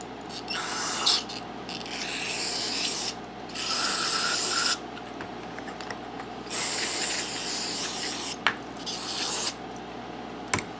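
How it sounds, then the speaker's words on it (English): Repeated hissing bursts of a cleaner spray bottle spraying into a Westinghouse generator during repair of a plugged exhaust, several in a row with brief pauses, over a steady low background hum. "we'll spray some cleaner through here"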